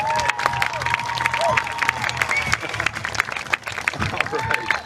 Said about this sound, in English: So a nice round of applause again for Jesse.